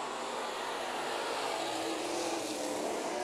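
Pro stock race cars roaring around the Santa Maria oval during a heat race, a dense, continuous engine roar heard at a distance with no voices.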